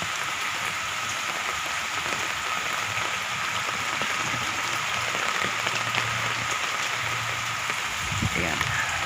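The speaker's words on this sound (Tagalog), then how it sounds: "Ang lakas ng ulan mga kaibigan." Heavy rain pours down in Bacolod on a school day, a dense, steady hiss of drops hitting surfaces, loud and continuous, with faint background voices now and then.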